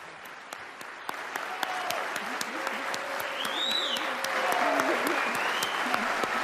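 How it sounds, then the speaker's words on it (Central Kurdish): Members of the US Congress applauding Ukraine's president in the chamber, sustained clapping under a voice and a tonal sound. "ئەندامانی کۆنگرێس چەپڵە بۆ سەرۆکی ئۆکرانیا لێدەدەن"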